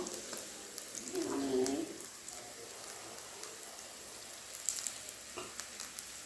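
Bonda sizzles in hot oil, a soft continuous crackle like light rain, with a brief bubbling swell early on and a few faint clicks later.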